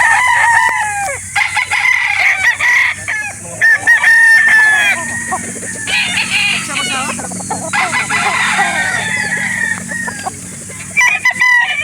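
A Boston and Golden Boy cross rooster crows loudly and clucks at close range. Several crows and clucks follow one another over a background of faint chatter at a chicken market in Calauan, Laguna.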